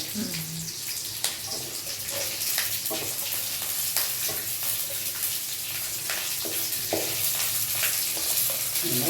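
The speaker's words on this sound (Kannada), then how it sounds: "ಮೆಣಸಿನ್ಕಾಯಿ ಸಿಡಿಯುತ್ತೆ, ಸ್ವಿಚ್ ಮಾಡಿ ಹಾಕೊಡೆ" Green chillies splutter in hot oil with fennel seeds for a vegetable pulao, a continuous loud sizzle broken by sharp crackling pops throughout, close up.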